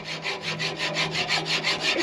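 A hacksaw borrowed from a neighbour cuts through material in rapid, even back-and-forth strokes, about five per second, close and loud, a raspy rhythmic scrape with no talking.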